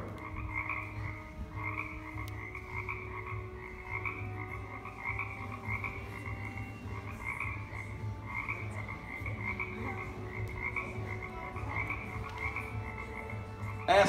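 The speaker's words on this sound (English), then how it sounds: "What is up with these frogs? They're everywhere." Frogs croak in a rapid, repeating chorus of pulsing bursts as a sound effect in a children's camp stage play, steady and moderately loud over a low continuous hum, with no voices.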